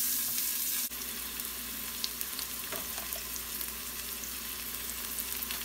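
Onions and fennel seeds fry in a pot for an Indian mutton curry, a steady dense sizzle that hisses continuously at close range, with a small clatter early on and no voices.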